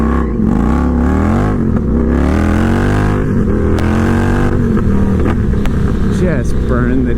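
An Indian FTR 1200 V-twin with a full Toce exhaust and tune pulls hard in second gear out of a corner, a loud, close, rising engine roar with someone talking over it.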